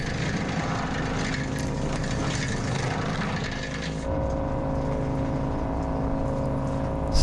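A Kubota BX25 compact tractor runs with the PTO engaged, its engine droning steadily and loudly close by and settling to a slightly different note partway through, with no talk.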